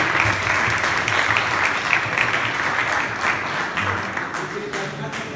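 An audience at a developer festival in Lomé gives steady applause, a dense, broad patter of many hands clapping at once, loud and continuous, with faint voices underneath, easing slightly toward the end.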